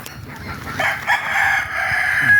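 Young cockerels, three to five months old, cluck and crow together in an open range pen, a long strained crow rising over low continuous clucking in the heat.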